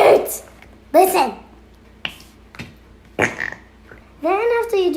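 Several short, wet squelching fart-like noises from toy slime, in bursts, close and fairly loud, some with a higher squeaky tail, separated by brief pauses.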